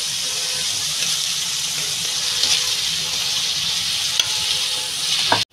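Spices sizzle steadily in hot oil in a pan while being stirred for an egg and poppy seed curry, a close, even frying hiss with occasional soft scrapes and a brief clink near the end.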